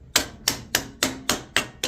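A mallet hammers sheet metal down against a brake during fitting fabrication: seven sharp, loud, evenly spaced metallic strikes, close by, with no talk.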